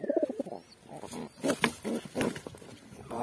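An angry baby pigeon gives a string of short, raspy hissing and grumbling bursts, soft and close, with no talk over it.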